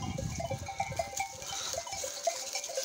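Lambs and sheep bleat repeatedly on a farm, several overlapping calls near and farther off, steady and fairly loud throughout with no talking.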